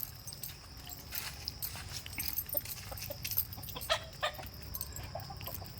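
Several chickens cluck and peck in a farmyard in the late afternoon, scattered soft clucks and short calls close by over a low background hum, with no talk.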